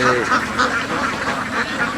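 Ducks on a duck farm quack repeatedly at moderate distance, a steady cluster of nasal calls over background noise and faint talk.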